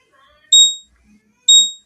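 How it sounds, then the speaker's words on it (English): An electronic alarm beeps twice, two sharp high-pitched tones about a second apart, loud and close, with only faint background sound between them. "What is this alarm now?"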